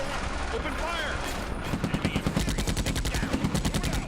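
Gunfire in the WWII strategy game Combat Mission: Afrika Korps, starting with softer scattered sounds and then breaking into rapid rhythmic bursts of shots, loud and close, with a voice speaking over parts of it.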